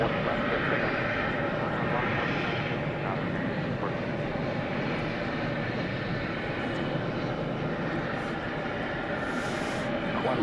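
A jet aircraft at DFW Airport roars steadily for the full stretch as a broad, constant engine rumble, loud and unbroken, with faint background noise over it.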